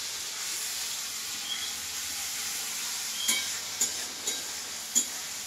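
Mashed tomato frying in a pan makes a soft, constant sizzle and hiss, with a few light scraping stirs near the end and no voices.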